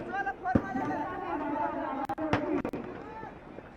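Eco-friendly fireworks at the Ravan Dahan celebration at Gandhi Maidan, Patna, burst in a few sharp cracks and pops amid constant crowd noise and someone talking over them.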